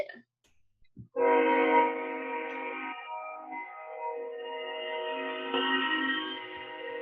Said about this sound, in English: I'm sorry if you can hear the train going by.